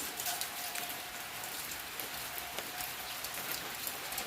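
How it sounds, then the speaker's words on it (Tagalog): Steady rain falls across a paved, cemented outdoor area in the Philippines, a dense broadband hiss of drops spattering on the surface with scattered louder splashes, continuous and close throughout with no talking. "So, maulan guys."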